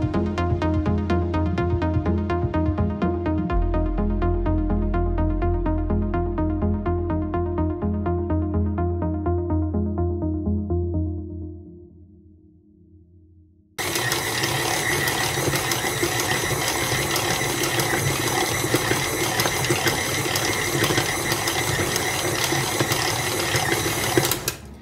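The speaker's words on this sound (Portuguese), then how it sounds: "Eu sovei aqui na batedeira" A stand mixer kneads cinnamon roll dough in a home kitchen with a steady, continuous mechanical whir and motor hum that fades out midway, then returns louder and denser for the rest, with no voices.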